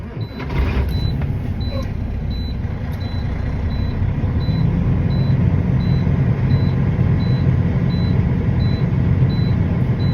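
A tractor-trailer truck's diesel engine turns over and settles into a steady, loud, low rumbling idle, heard up close from the cab, with a faint repeating electronic beep behind it and no talking.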